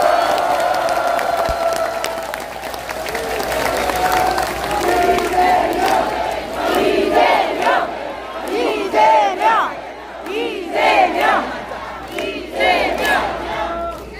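Rally crowd at Gyeyang Station in Incheon applauding and cheering, a dense wash of clapping with rising shouts and whoops in bursts, loud and close throughout, with some voices calling out within the din.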